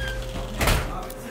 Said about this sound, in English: let's close the door, it's cold.